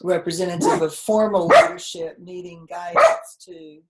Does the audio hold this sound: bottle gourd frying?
no